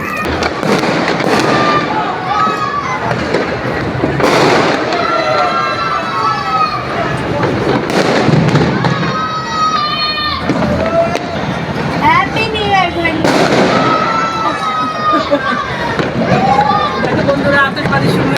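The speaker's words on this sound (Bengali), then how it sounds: "আতশবাজি শুরু হয়ে গেছে।" New Year's Eve fireworks go off outside in dense, continuous crackling and popping bursts with rising whistles, near and loud, over distant crowd noise and people talking.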